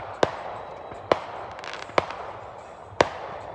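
Fourth of July firework mortars exploding in the distance, four sharp cracking bangs spaced roughly a second apart over a low outdoor rumble.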